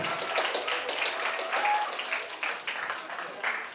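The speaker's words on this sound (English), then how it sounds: "Please give applause to all speakers and moderators" An audience at an international guest lecture applauds the speakers and moderators, a dense, steady wash of many hands clapping throughout, fairly close and even in level with no pauses.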